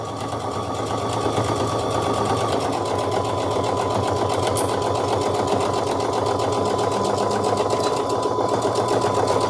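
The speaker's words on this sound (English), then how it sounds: "I went over to the sewing machine and I sewed down each side" A sewing machine runs steadily for nearly ten seconds, stitching down the sides of a fabric storage box with a fast, even mechanical whir at close range and no talking.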